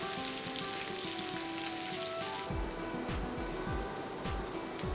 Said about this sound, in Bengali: এই গরম তেলে প্রথমে দেওয়া হচ্ছে আস্ত কয়েকটা রসুন, দেওয়া হচ্ছে পেঁয়াজ কুচি 2 টেবিল চামচ।